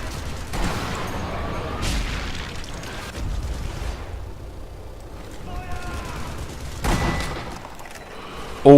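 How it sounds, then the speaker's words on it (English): Machine gun fire and explosions rumble through a video game battle, with bursts and booms rising and falling over several seconds amid a busy, mid-distance combat soundscape. "Always take out machine guns when they're firing at you"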